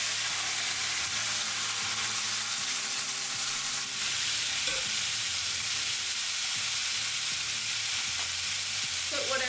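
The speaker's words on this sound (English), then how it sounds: "And then we're gonna add our meat to brown" Beef stew meat browns in hot oil in a pot, giving a steady, loud sizzle and frying hiss with a few clunks and stirring scrapes, no voices.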